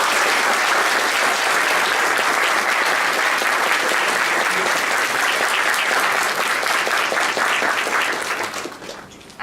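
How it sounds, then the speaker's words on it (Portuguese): An audience at a university economics talk gives the speaker a loud, dense round of applause that holds strong for about eight seconds and then thins out and dies away. "Uma salva de palmas."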